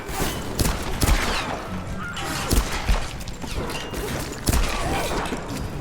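Gunfire in Tomb Raider (2014): several sharp shots and impacts ring out over busy game noise, with bursts spaced a second or two apart.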